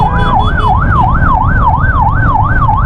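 A loud ambulance siren wails, rising and falling in a steady repeating cycle, close by, over a rumble of stuck traffic and engine noise.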